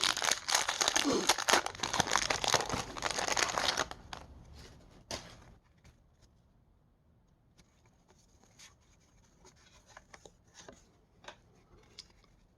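A pack of 1990 Topps baseball cards is torn open, loud close crinkling and ripping of the wrapper for several seconds, then quieter shuffling and faint paper ticks as the cards are handled.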